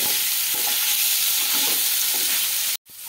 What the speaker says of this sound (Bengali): আর হাই ফ্লেমে উঠিয়ে পনিরগুলোকে আমি একটু হালকা ভেজে নেব